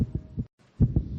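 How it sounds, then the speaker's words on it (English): Quick, muffled heartbeats thump in close succession, a brief pause breaking the fast pulse before it resumes. "This is the sound of a racing heart."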